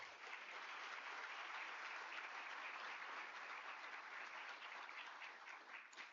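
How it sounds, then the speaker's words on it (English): Sustained, loud applause from an event audience at State of the Region 2025, thanking a list of sponsors; steady clapping from a large crowd fills the whole stretch without talk, tapering slightly at the very end. "A really loud round of applause for all of you"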